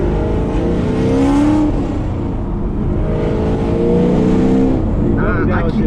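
Big-cam Chevrolet Camaro 1LE V8 revving hard under throttle from inside the car, a loud continuous rising and falling engine roar with people talking over it.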